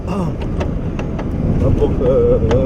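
A car carrying Ukrainian soldiers serving near Popasna drives along with a steady, low engine and road rumble from inside the cabin, and faint voices can be heard under it.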